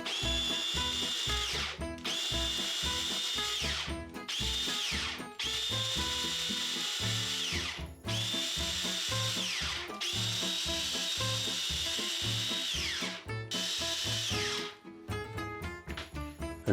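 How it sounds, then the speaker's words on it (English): A food processor chops hot peppers in repeated loud whirring bursts, about seven long runs separated by brief stops, followed by a few short pulses at the end, close and without talk. "We are gonna put on the top of our food processor,"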